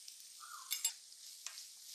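Green chilli, crushed dried red chilli, curry leaves and a pinch of salt frying in a pan, heard as a soft, faint sizzle broken by a few quick scraping stirs near the middle and end.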